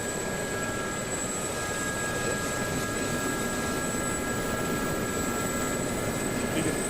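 A helicopter in a video game drones with a steady, loud rotor and engine roar that runs unbroken, with a thin whine on top and no talk.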